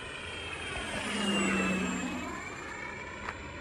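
A Carbon Z T28 super-scale RC model plane drones overhead, its electric propeller whine swelling as it passes and then fading, steady and moderately distant.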